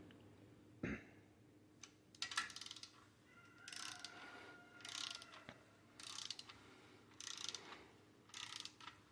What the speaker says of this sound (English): right now we got the wrench set to 25 foot-pounds